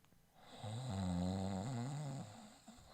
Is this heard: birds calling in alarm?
no